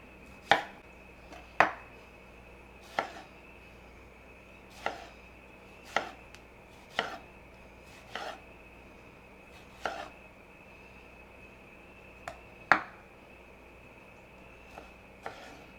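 A kitchen knife chops tomatoes on a cutting board for pico de gallo, about a dozen crisp, separate knocks at an unhurried uneven pace, close up over a quiet steady background hum.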